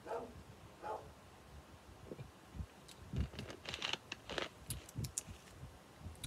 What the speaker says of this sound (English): I'm so sorry about that dog, oh my lord.